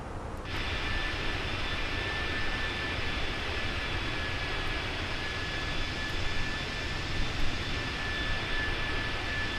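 Airbus A321 jet engines in a flight simulator reducing thrust for descent make a steady, loud, broadband roar with a faint high whine. The drone is continuous, with no talking.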